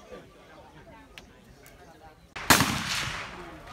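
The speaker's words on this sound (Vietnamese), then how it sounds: "Loạt bắn thứ hai đây. Nghe trực đạn. Nghe này nổ to." AK-47 rifle fire at an outdoor shooting range: a sudden loud burst at about two and a half seconds, with a sharp crack that rings and fades, following quieter background murmur and a few faint distant pops.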